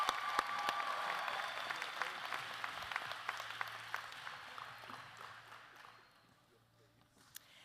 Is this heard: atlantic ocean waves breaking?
no